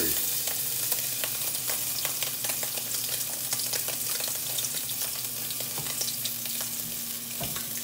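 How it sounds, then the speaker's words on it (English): Scallops sear in a hot pan with a steady, dense sizzle and crackle throughout, close and fairly loud, with occasional sharper pops. "We're just going to let them sear."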